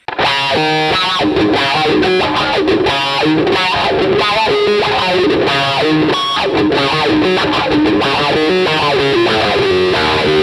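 A distorted electric guitar plays a funky rhythmic groove through a wah pedal pumped in rhythm, its tone rising and falling with the sweep, loud and continuous.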